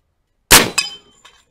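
A slug fired from an SWA 20 gauge air shotgun strikes its target with a sharp, loud crack, followed quickly by a metallic clang and a faint ringing tail, then one small later knock.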